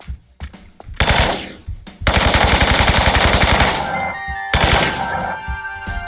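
Machine gun fire in a video game rattles in loud, rapid bursts, with a short stuttering volley followed by two long sustained streams of shots.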